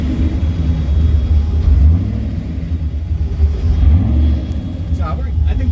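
A turbocharged car engine rumbles and revs up close, its low drone rising and falling as it spools and builds boost, with a few faint higher whines near the end.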